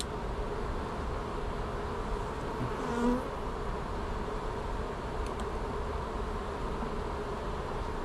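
Honey bees buzz around an open beehive while frames of brood are handled, a dense, steady drone that fills the whole stretch at close range without pause.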